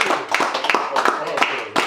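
A few people clap in a loose, uneven rhythm during a casual podcast conversation, the sharp hand claps sounding close while voices talk over them.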